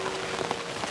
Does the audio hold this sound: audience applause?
no